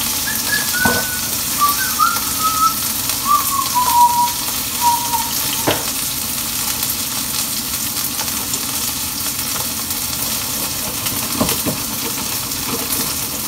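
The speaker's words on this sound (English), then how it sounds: "Let that sear for a little bit" Jasmine rice sears in a hot pan with a steady close sizzle that holds for the whole stretch, broken by a few sharp ticks, alongside a faint high whistle early on.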